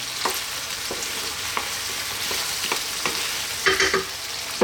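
Garlic ginger paste, a half-and-half mix, being stirred and fried in a pan for creamy chicken curry, with a soft steady sizzle and sparse spatula scrapes, a few louder clinks toward the end, no speech.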